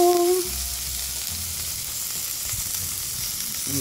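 A faux NY strip sizzling on a grill pan, a steady loud hiss close by with a low clunk at the very start, no talking.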